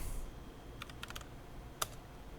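Disk-management commands are typed on a computer keyboard in a few short, light clusters of keystrokes, followed by one sharper key press. The typing is close and quiet against faint background hiss, with no talking.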